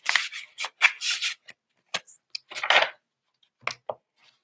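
Tarot cards being shuffled by hand at a live reading, heard as bursts of crisp riffling and rubbing that come in irregular clusters with short pauses, then trail off into a few faint taps.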